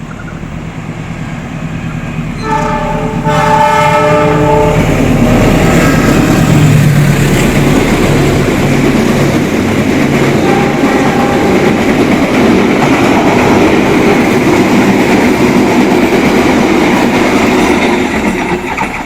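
Loud, close rumble of the Pasundan economy-class passenger train running on rails in Indonesia, steady roar with a rising horn-like tone early on and continuous wheel noise.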